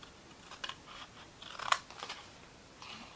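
Scissors snip through paper in a few faint, close cuts, with crisp crunching snaps spread unevenly through the clip and one sharper click in the middle.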